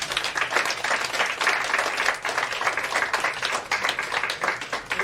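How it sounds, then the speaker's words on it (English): Steady applause from an audience at a practical training session, dense overlapping claps sustained at an even level for several seconds with no voices over it. "Let's give a big round of applause."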